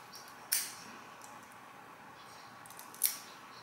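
Two crisp snips of scissors cutting wig lace around the ear, close and fairly quiet, spaced a few seconds apart over a soft, still background with no talk.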